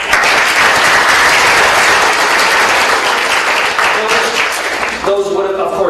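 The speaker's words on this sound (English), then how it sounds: "So round of applause for all of our..." An audience at an electoral reform talk in Hamilton breaks into loud, sustained applause that fades near the end as a voice begins speaking.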